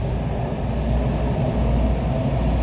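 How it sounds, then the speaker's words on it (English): A WMATA Orange Line Breda 2000/3000 series metro car rumbles along the track, a steady, loud low-frequency roar and hum heard from inside the moving train. "This is the Orange Line train to Vienna Fair X."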